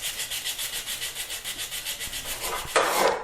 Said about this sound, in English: So I like to really sand everything smooth and transition it well.